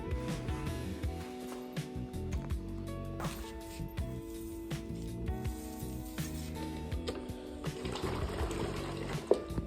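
Water running into a mop bucket indoors, a steady splashing pour with some clunks and shifting handling sounds, fairly quiet and without speech.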